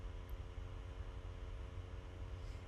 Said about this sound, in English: And I apologize for the fan noise.